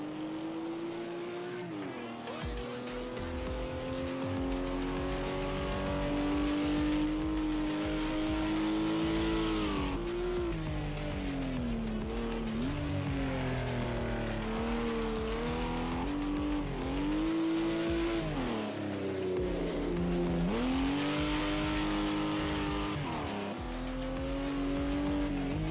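Race car in the Project Cars 2 video game, engine whining up and down through shifts with tire squeal and skidding mixed in, steady and moderately loud throughout.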